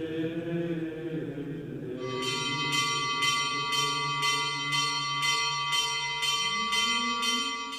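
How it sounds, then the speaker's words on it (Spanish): A monastery bell rung in a Cistercian cloister before a liturgical office, striking about ten evenly spaced, ringing strokes that sustain over a low hum of background sound. "5 minutos antes de cada oficio litúrgico se toca esa campana en el claustro."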